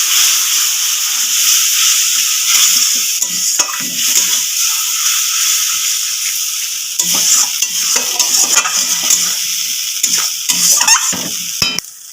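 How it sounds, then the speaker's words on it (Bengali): Spice paste sautés in oil with spice-rinsing water for a cauliflower curry, making a loud, continuous sizzle broken by repeated scraping stirs of the spatula against the pan. "এবার আমি মশলা ধোয়া জলটা দেবো, একটু ভালো করে কষিয়ে নেবো জলটা দিয়ে"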